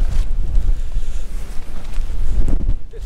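Strong wind buffets a tent pitched on a mountainside, a loud continuous gusty rumble with fluttering bursts throughout.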